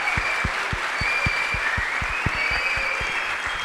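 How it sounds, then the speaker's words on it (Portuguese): Audience applause rolls on continuously, with a few sharper individual claps standing out over the dense, even clapping. "Palmas para ele."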